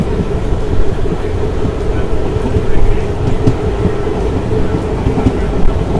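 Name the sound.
EMD diesel locomotive train accelerating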